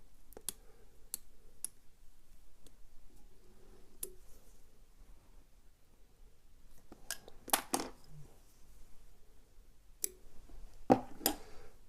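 Scissors snip foam while a skwala stonefly dry fly is tied: sparse, crisp clicks and cuts spaced irregularly, close and quiet, with a denser flurry of snips near the end.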